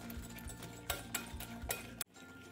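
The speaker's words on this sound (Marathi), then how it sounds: "आता मी या हँड विस्करचा वापर करते." A hand whisk beats butter and sugar to a creamy consistency in a bowl for eggless condensed milk marble cookies. It makes a steady rhythmic scraping with light metallic clinks, close and fairly quiet, and stops abruptly near the end.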